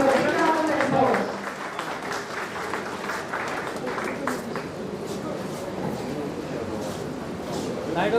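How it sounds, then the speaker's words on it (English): Applause rises from the audience at a Lions School felicitation ceremony, a burst of clapping that settles into a steady, moderately distant patter with voices talking underneath. "I wish all of you to give a big round of applause."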